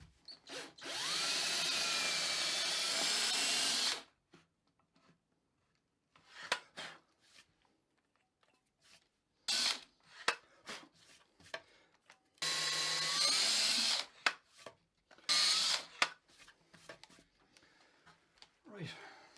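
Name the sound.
power drill drilling holes in guitar body for bridge hardware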